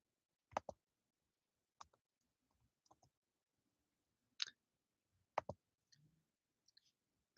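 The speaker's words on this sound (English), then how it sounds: "click right here in your search bar." Computer mouse clicks, sharp and close, come as single and double clicks scattered irregularly over several seconds against a quiet background, with no talking.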